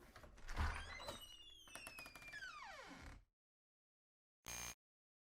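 A door opening in a video game: a heavy thunk and sliding, creaking movement with descending tones, ending abruptly, followed after silence by a short separate burst of noise.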